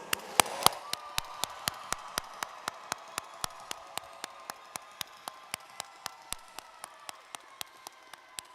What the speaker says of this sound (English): Please join me in one last round of applause for our graduates